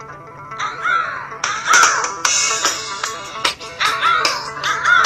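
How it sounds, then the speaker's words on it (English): Song played through a phone's built-in speaker, bright and busy with layered tones and varying loudness, heard up close with no talk. "Actually, pretty impressive audio coming out of the phone right now."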